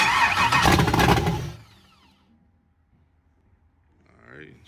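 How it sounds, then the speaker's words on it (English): An LS-swapped 1964 Chevrolet El Camino engine starts for the first time, roaring loudly for about a second and a half before cutting out to near silence, with a faint voice at the end. "I'm gonna see if I can do the first startup"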